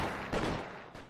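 A single gunshot in L.A. Noire's police shootout, a sharp blast with a rumbling tail, followed by a fainter second report, with no speech.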